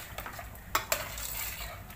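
Mutton korma with yogurt being stirred in a pot, a spoon scraping and knocking against the metal in a few sharp clinks over a soft background hiss, no speech.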